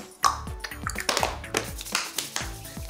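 Several sharp hand claps, roughly one every half second, close and clear in a quiet room during a children's singing activity.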